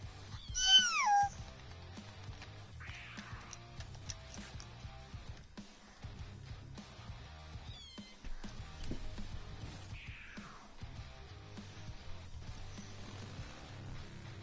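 A cat meow emote from a video game sounds several times, with short rising and falling meows spread over a quiet game background of low music and light ticking.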